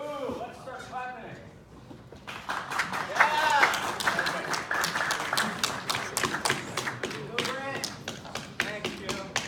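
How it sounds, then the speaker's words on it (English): An audience claps at a lecture of midpoint presentations, the applause starting suddenly and continuing as a dense patter of hand claps, with voices talking and whooping over it at first. "Let's start clapping."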